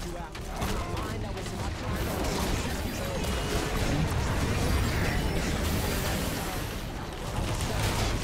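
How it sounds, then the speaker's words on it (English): Champion demolishing a tower in League of Legends, a dense rapid barrage of hits, pops and crashes under continuous game effects, loud throughout, with talk over it. "And now I'm going to destroy this tower in about 2 seconds."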